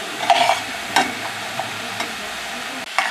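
Celery and onions are tossed in a pan for venison chili, making a few close, sharp clanks and scrapes of a utensil against the pan with quieter stirring between them.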